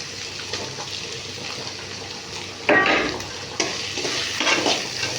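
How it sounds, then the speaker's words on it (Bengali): Ground spices with salt, chili and turmeric are stir-fried in a pan, a continuous close sizzle with scraping stirs that swell louder partway through, no talking. "দিয়ে মশলাটা একটু কষে নেবো"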